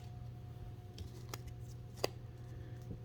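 A pack of Digimon trading cards is torn open up close, with faint crinkling foil and a few brief sharp rips, one standing out clearly, over a low steady hum.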